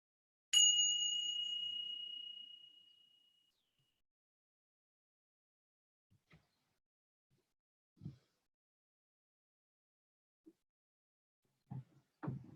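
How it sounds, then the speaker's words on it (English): A single meditation bell is struck once, ringing clear and pure and fading slowly over about three seconds into silence, followed by faint scattered rustles. "as we get ready to hear the sound of the bell"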